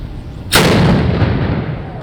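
A cannon fires a single blank charge with no cannonball at the opening festival of the Ironworks Museum in Chorzów. It lands as one sudden, very loud close boom, followed by a long, dense rumbling decay.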